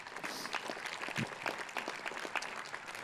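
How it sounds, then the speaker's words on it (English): Audience applause fills a hall at the Marist College 70th commencement ceremony, a dense, steady patter of many hands clapping, somewhat distant and fairly soft, with no voices over it. "A round of applause again for those great moms and dads."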